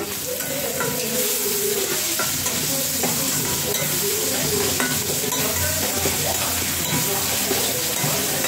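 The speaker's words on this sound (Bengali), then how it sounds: "সুন্দর করে ভাজা ভাজা করতে হবে।" Food fried and stirred in a pan with salt added, heard as a constant loud, close sizzle with repeated scraping stir strokes throughout.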